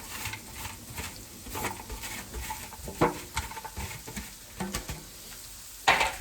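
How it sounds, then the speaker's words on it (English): Chopped onions and celery sizzle in melted butter in a pan for a turkey pot pie, making a moderate crackling fry with irregular stirring scrapes and a couple of sharper clatters, with no talking. "we're going to add the chopped onions and chopped celery"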